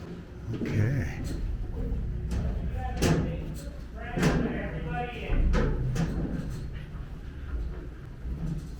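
Heavy steel blast doors clang and thud shut inside a Titan II ICBM missile silo complex, several loud echoing slams and latch clunks spaced through the tour while people talk over them.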